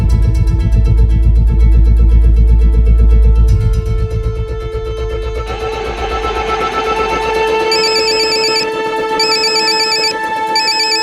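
An electronic phone ringtone plays a repeating melody, loud and close, over a low rumble that fades after the first few seconds.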